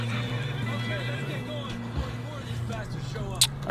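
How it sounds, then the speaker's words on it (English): A horse neighs and hooves clip-clop in the video game Red Dead Redemption 2, heard over a steady low in-game hum with faint background noise and brief clatter. "Get him on that fucking horse."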